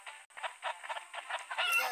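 Chickens clucking in a stickman party video game: a quick run of short, bright clucks in a steady rhythm, fairly faint and alone.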